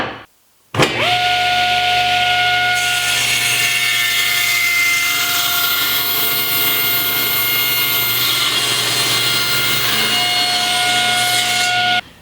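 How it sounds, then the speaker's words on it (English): A table saw rips a solid walnut board into 3/4-inch strips in a woodworking shop, its blade whining steadily and loudly for about eleven seconds after a sharp start before it cuts off. "So I can simply cut this down into 3/4 inch strips"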